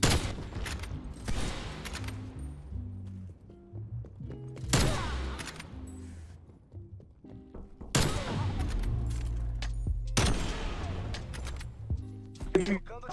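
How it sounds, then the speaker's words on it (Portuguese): Call of Duty gunfire in a multiplayer match, repeated loud bursts of shots and booms over game music, with people talking over the action. "Aquele último tiro foi varando pela parede ainda."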